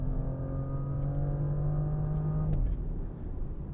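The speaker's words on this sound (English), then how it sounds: "Getting pretty good downshifts from that 8-speed auto, playing with the little paddle shifters." A 2024 Audi S7 with its 8-speed automatic holds a steady engine tone that climbs smoothly, then cuts abruptly at a downshift into a rougher, lower rumble, heard close and clear.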